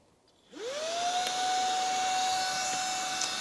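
A Shark Rocket Pet Pro vacuum cleaner switches on and its motor whine quickly rises in pitch, then settles into a steady, close, continuous whir with airy rushing noise.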